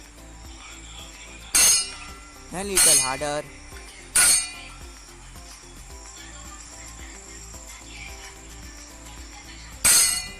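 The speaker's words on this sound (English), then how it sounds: "Now stroke the glass softly," A spoon strikes a glass of water in a few sharp glassy clinks at intervals, one setting off a brief wavering ring, with a voice speaking briefly between them.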